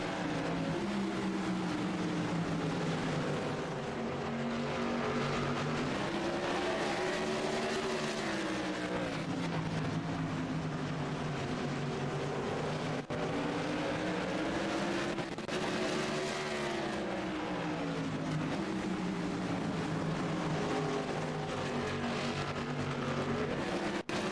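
Stock cars racing at North Wilkesboro in the iRacing sim, a steady loud engine drone with pitch rising and falling in repeated sweeps as cars lap the short oval, no voices.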